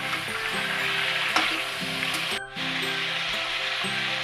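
Mutton sizzles and fries in hot oil over a high flame, a steady close crackling hiss with brief stirring clatters and a short dip midway.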